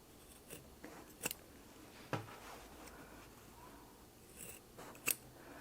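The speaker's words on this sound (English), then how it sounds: "now you're going to cut these corners off so that when you turn it right side out, you don't have so much bulk in the corner" Scissors snip through the thick corners of a quilted fabric pot holder, a few sharp, quiet cuts spaced apart, close by in a quiet room.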